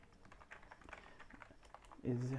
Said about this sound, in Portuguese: Para a escrita, basta pressionar o botão T do teclado.